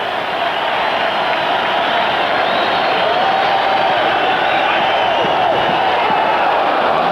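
Crowd of nearly 25,000 at a Dodgers–Giants baseball game at San Francisco standing and cheering, a loud, continuous roar of the stands with no distinct breaks.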